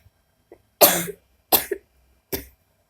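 A woman coughs three times in a quiet room, after a faint throat sound, with each cough sharp and close and the last one a little softer, spaced under a second apart and with no talking.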